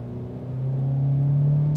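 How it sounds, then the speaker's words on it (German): Inside the cabin of an MG EHS SUV on the road, a low resonant droning hum swells and then holds steady and loud, with no one talking. "Denn hier dröhnt es schon ganz schön. Der ganze Fahrgastraum ist ein Resonanzkörper, wie es scheint."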